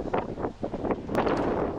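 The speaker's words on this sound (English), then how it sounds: "It's very windy." Loud gusts of wind buffet the microphone in rumbling, uneven bursts, close and continuous throughout.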